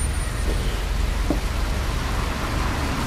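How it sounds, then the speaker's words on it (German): Steady rain in the Fernbus Simulator game on a Zürich coach route, a dense, even hiss of falling drops filling the whole stretch without pauses. "Oh, im Regen."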